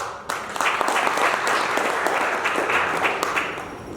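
A room of guests at a public enterprise chief executives' forum welcoming cocktail dinner applauds the Road Administration Fund, with steady, dense clapping at close range that holds for several seconds before easing slightly.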